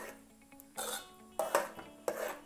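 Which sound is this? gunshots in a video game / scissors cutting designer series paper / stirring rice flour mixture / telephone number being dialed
stirring rice flour mixture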